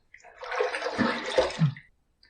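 Running water from a tap rinsing off after a wet shave, a short splashy gush of under two seconds with a couple of louder surges before it cuts off.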